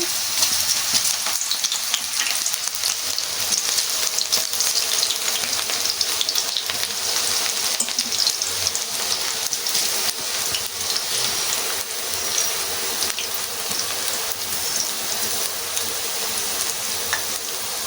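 Onion pakoda fritters frying in a pan of hot oil, a steady, crackling sizzle that stays even and close throughout, with no talking over it.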